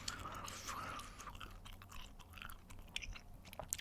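Gum being chewed and smacked right up against the microphone, with wet, crackly mouth sounds and occasional sharp clicks running continuously over a low background hum.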